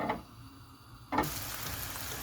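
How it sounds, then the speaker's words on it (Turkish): Onions in oil sizzle quietly in a pan, then a sudden louder burst of frying crackle takes over and continues steadily. "Soğanımız böyle kavrulsun"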